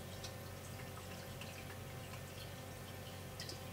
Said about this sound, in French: on est avec la pompe de remontée et la pompe de mon filtre